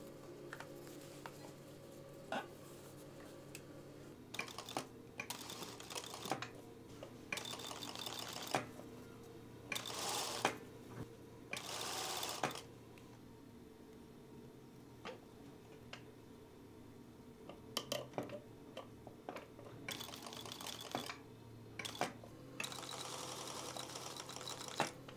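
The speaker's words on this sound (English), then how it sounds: "So now we'll be sewing the other side of the neck tape to the t-shirt." A sewing machine stitches neck tape onto a t-shirt in repeated bursts of rapid whirring and clatter, starting and stopping several times between quieter pauses, close by and fairly soft.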